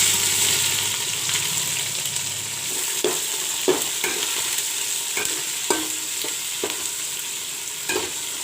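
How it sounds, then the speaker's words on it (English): Chopped onions, about four large ones, fry in a pan for a village-style mutton curry, a constant close sizzle punctuated by several distinct stirring scrapes, with no talking. "Let the onions fry."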